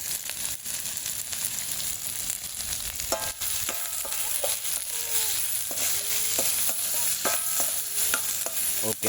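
Spices sauté and sizzle in a pan for Jaffna-style crab curry, a steady close hiss with occasional scrapes and clinks of a stirring utensil, no talking.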